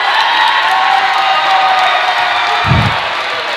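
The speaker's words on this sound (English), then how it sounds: "that cheer was for a foul away from the ball on Hunter Hayes" A high school boys' basketball game crowd roars and whoops in a gym, a loud sustained cheer with a brief thump near the end, without clear speech over it.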